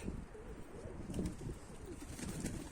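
Pigeons coo softly and repeatedly in a low murmur, with a faint flutter of wings and steady background ambience.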